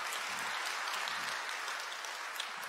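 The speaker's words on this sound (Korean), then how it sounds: "여러분도 환영의 박수 부탁드리겠습니다." A church congregation claps steadily for about three seconds during a Sunday service, welcoming two visiting media designers from France; the applause is dense and even, filling the room with no voices over it.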